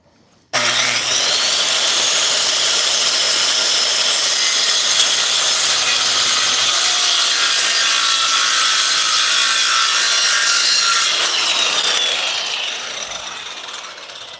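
Power saw cutting through a wooden board outdoors, a loud, close, continuous rasping whine that holds steady for about ten seconds before tapering off as the cut finishes.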